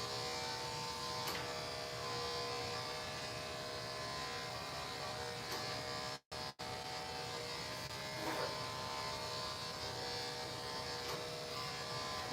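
Andis electric clippers fitted with a 4-guard buzz continuously and steadily at close range while grooming a Maltese dog, with one brief cutoff midway before the hum resumes.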